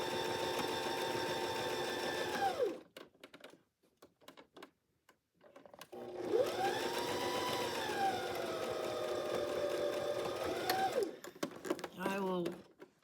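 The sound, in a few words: sewing machine sewing fabric squares together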